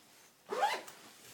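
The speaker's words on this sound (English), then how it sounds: "do the zip up around it." A zip drawn once around a big bag holding a Brompton folding bike, a short close rasp lasting under half a second against a quiet background.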